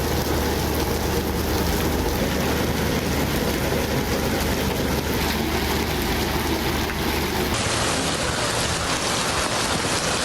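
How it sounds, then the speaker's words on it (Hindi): Heavy morning rain in Lahore and other Punjab cities, a loud, dense, steady downpour hiss that runs unbroken throughout, with no voices. "लाहौर समेत पंजाब के मुख्तलिफ शहरों में सुबह सवेरे तेज़ बारिश।"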